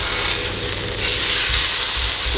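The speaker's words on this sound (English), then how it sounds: "I'm just going to sear it on this side a little bit more" A vegan meat substitute searing in a hot frying pan, with a loud, continuous close sizzle and crackle throughout and no talking.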